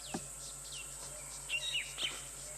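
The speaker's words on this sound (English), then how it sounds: "that tiny, tiny owl was making that wonderful whistling sound" Faint, thin whistling calls of a tiny owl at sunset on safari, a few short rising and falling notes, over a steady background hum and insect-like hiss.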